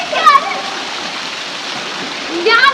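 Children splashing and playing in cold water at an elevated spot, with steady rushing water throughout and brief bursts of excited children's voices near the start and end.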